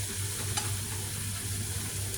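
Leftover chicken stirring and frying in a small amount of oil in a pan, a steady close sizzle with a brief scrape of a utensil partway through and no talking.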